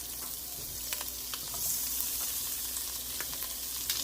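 Two tablespoons of butter sizzle faintly in a pot while making beef bourguignon, a soft continuous crackle with occasional small pops.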